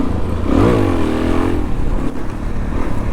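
A Suzuki DRZ400 dirt bike revs up and accelerates out on a trail, its engine note close and loud, rising in pitch as it pulls away.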